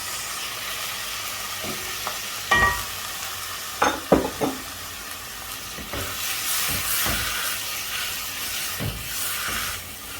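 Tomatoes tipped into a pan with garlic, ginger and paste, sizzling and hissing steadily with a few sharp clanks and stirring knocks early on, the frying noise rising and holding loud throughout.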